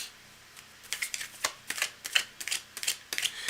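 Tarot cards being shuffled during a live reading, a string of crisp riffling and slapping bursts in an irregular rhythm, close and fairly quiet with no talk over them.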